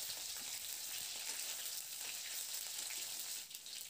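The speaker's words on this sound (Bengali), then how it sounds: "এবার একটু নাড়াচাড়া করে রসুনটাকে একটু ভাজা ভাজা করে নেব" Crushed garlic and green chillies fry in oil in a pan while being stirred, producing a soft, continuous sizzle with faint crackles and no talking.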